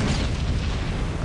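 Anti-aircraft flak bursting around a B-17 bomber in B-17 The Mighty 8th, a steady, heavy rumble of booming explosions with no distinct gaps.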